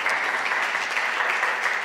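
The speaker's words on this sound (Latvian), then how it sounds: "Aplausi bija." Audience applause at a Latvian creativity event in Balvi region, a dense, steady round of clapping from a room full of people, fairly close and even throughout with no pauses.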